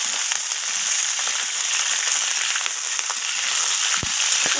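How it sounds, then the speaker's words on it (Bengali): Potatoes with bottle gourd greens and spinach stems fry in tempering spices, a loud steady sizzle with scattered crackles and occasional stirring scrapes, no voices. "সমস্ত কিছু এইভাবে নাড়াচাড়া করে একটু ভাজা ভাজা করে নিচ্ছি"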